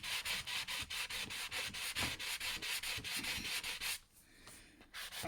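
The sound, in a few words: sanding knife blade with sanding pad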